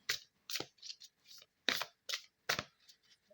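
Tarot cards from a twin flames deck being cut and shuffled by hand: a series of crisp, papery riffling bursts in an uneven rhythm, close and fairly quiet, with no talking.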